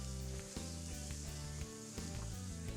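Onions cooking down in butter in a cast iron pan, a quiet, steady sizzle beneath a low humming background, with a few soft ticks but no stirring or talk.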